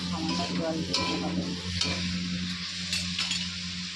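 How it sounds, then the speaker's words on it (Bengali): Onion and chili frying in a pan for greens make a close, steady sizzle with a few light stirring clinks and a low background hum. "পেঁয়াজ লঙ্কাটা আমি ভাজা ভাজা করে নিই"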